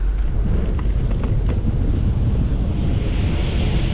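Heavy wind buffets the microphone while cycling into a headwind in Poltava, Ukraine, a continuous loud, low roar that never lets up, with no speech.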